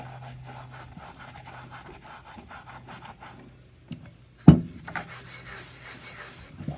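Scrubbing caked-in rust off cast iron gives faint, steady rubbing strokes with no talk, then a single sharp knock partway through before the scraping resumes more softly.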